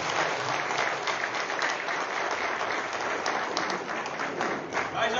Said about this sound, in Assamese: আৰু জোৰেৰে হাত তালিৰে